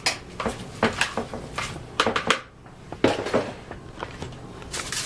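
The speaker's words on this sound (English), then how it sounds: "Give them a quick mix." A spoon scrapes and clinks against a bowl as mushroom stuffing is mixed with salt and pepper, a loose run of close metallic taps and knocks with a short pause midway.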